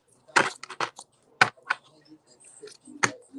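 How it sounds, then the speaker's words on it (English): Tarot cards shuffled by hand at close range, a handful of crisp papery riffles and snaps arriving in separate bursts with short quiet gaps between them. "So let's get 3 shuffles."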